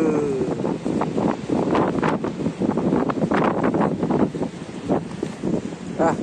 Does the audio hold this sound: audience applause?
no